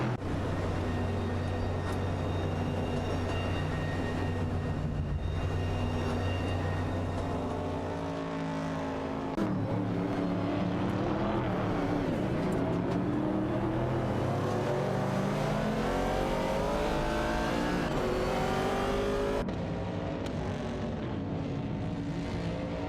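Race cars in an AI racing video game, engines roaring continuously and revving up and down with rising pitch sweeps as cars pass, loud and dense throughout with no talking.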